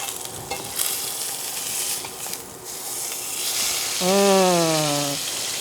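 Steady frying sizzle from a bison burger patty in a pan fills the background, with a brief scrape as the patty is flipped near the end.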